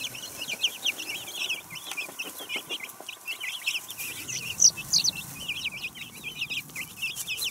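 Steady high-pitched cheeping from a group of small Brahma chicks, many overlapping peeps, with a soft low rustle underneath.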